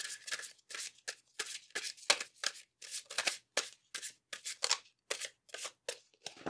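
Tarot cards being shuffled by hand during a pick-a-card reading, a close, crisp series of rapid riffling bursts in an irregular rhythm separated by short pauses, with no voice heard.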